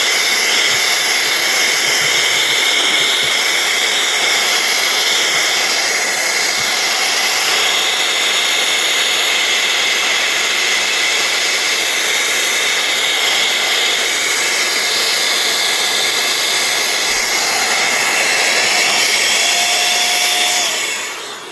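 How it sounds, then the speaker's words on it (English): A multi-speed blower roars continuously at close range while drying and clearing lint from wrestling belt plates during cleaning, a loud steady airy hiss lasting throughout with only a faint tonal whine and no talking. "And then I would take my blower."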